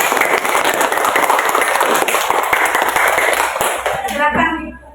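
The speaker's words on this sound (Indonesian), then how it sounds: "Oke, tepuk tangan." A classroom of students clapping hands together, a dense burst of close applause lasting a few seconds before trailing off as a voice begins to speak.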